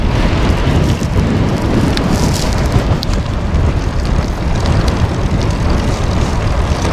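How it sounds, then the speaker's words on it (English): Strong crosswind roaring across a cyclist on an open Texas road near Alpine, a loud, steady, broadband rush buffeting continuously with no letup and no talk. "Wind is brutal to my right side."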